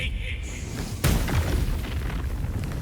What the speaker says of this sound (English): that does indeed cause a big old explosion